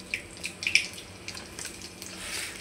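Mustard seeds hit hot oil alongside whole garlic cloves, giving a close, steady sizzling hiss scattered with small sharp pops and crackles.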